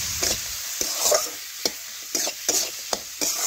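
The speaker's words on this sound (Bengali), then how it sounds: "এটাও ভালোভাবে আলুর সাথে কিছুক্ষণ আমি ভেজে নিচ্ছি।" Diced potatoes fry in hot oil with ginger, cumin, pepper and garlic paste, a steady sizzle broken by repeated sharp scrapes of a spatula stirring through the pan, close and fairly loud.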